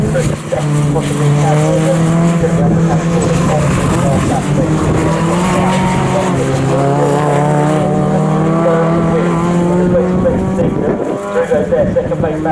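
Mini Cooper and Cooper S race cars at Snetterton during the Mini Challenge Trophy, several engines howling loudly with rising and falling revs as they pass, over a race commentator's continuous talk.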